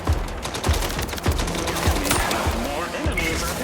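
Gunfire in the video game Mindseye, a run of heavy shots fired at a steady pace of roughly one every half second, with a dense battle mix and voices running underneath.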